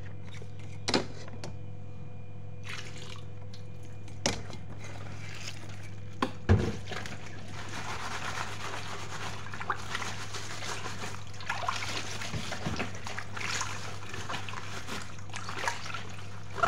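Tap water trickling and splashing in a kitchen sink while dishes are washed, a steady running stream with occasional clinks of plates and pots and a low hum underneath.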